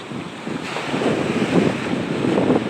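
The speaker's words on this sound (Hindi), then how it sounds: "वो लहरें काफ़ी तेज़ हो गई हैं" Ocean surf rolls in at Hawksbay beach in Karachi at night, a steady broadband wash of breaking waves with gusting wind rumbling against the microphone, continuous and fairly loud with no voices.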